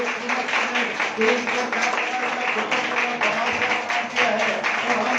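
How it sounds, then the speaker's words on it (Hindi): A church congregation clapping together in praise, rhythmic repeated hand claps throughout under a preacher's voice. "हम ताली बजाकर परमेश्वर को महिमा दे सकते हैं।"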